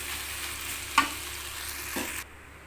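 Rice being stirred into fried okra in a hot pan: a soft, steady sizzle with a couple of brief scrapes of the spoon, then the frying noise drops away.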